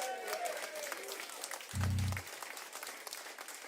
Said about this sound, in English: Give him a big applause, yeah.